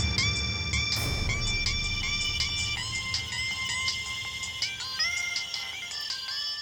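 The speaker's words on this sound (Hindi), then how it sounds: "ये किस बुड़बक का फोन टुनटुना रहा रे?" A phone ringtone plays a repeating melodic electronic tune, clear and fairly loud, with a brief thump near the start.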